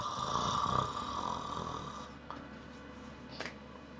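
A man imitates snoring with his voice, a loud, drawn-out nasal snore lasting about two seconds, followed by quieter breathy trailing sounds.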